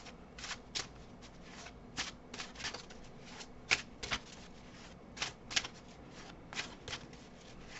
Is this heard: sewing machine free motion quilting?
no